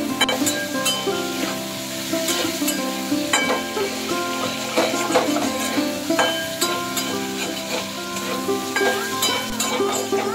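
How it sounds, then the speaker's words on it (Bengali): Small-cut salted potatoes frying in oil in a pan, a continuous close sizzle with frequent scraping and clinking stirs throughout. "আলুটা ভাজা হয়ে এসছে"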